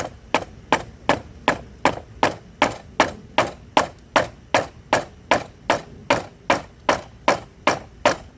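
Steady hammer blows strike a splined wheel on a Troy-Bilt lawnmower, about two per second, each a sharp metallic knock, close and evenly paced throughout.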